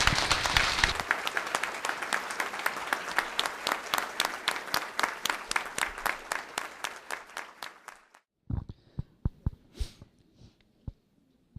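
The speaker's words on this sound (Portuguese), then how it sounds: "E peço a todos uma calorosa salva de palmas." An audience at a swearing-in ceremony for new lawyers in Londrina gives loud, dense applause that thins abruptly into a handful of scattered, separate claps before fading out.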